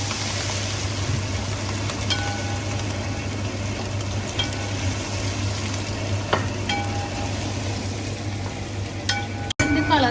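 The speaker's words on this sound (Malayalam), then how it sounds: "ഇഞ്ചി ചതച്ചതും കൂടി ഇട്ടിട്ട് നന്നായിട്ട് മൂപ്പിക്കുക." Pork fry masala with curry leaves and crushed ginger sizzles steadily in a pan, a dense continuous crackle broken by occasional scrapes of a stirring spoon, close and fairly loud with no talking.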